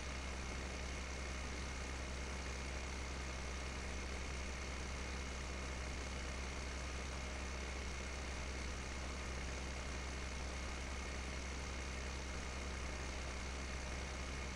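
Holmer Terra Track tractor engine in Farming Simulator 2015 on PS4, a constant low, droning engine hum that runs unchanged throughout with no voices.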